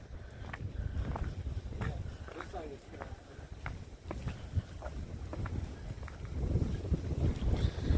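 Strong atmospheric-river wind storm gusting outdoors around a carport with a tarp-covered Mustang, steady rushing wind with microphone buffeting and scattered knocks, rising louder toward the end, with a person talking intermittently.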